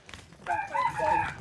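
A duck gives one drawn-out, nasal call lasting about a second, fairly close and clear, with no talking.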